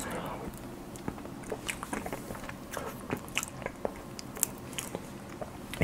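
Handmade chocolate cake, a Valentine's limited-edition pavé and roll chocolat dessert, being eaten up close: soft repeated bites and moist chewing with small crunches, steady and quiet throughout.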